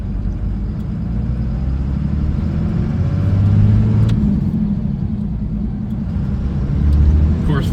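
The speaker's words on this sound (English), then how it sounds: "Nice Jake brake. Absolutely amazing. Slows you right down." A 1998 Dodge Ram 2500 with a Cummins diesel and five-speed manual rumbles loudly from inside the cab, its low engine drone swelling twice as the Jake brake engages to slow the truck.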